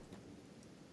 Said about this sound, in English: Guys, it's acid rain.